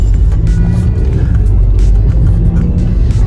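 Steady low road rumble inside a Skoda Superb on a test drive, listening for a worn rear wheel bearing, a loud continuous drone of engine and tyres without talk.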